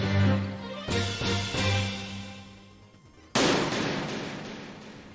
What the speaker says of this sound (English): that like echoing gunshot effect on Metal Gear, like, has always been a very loud and effective sound effect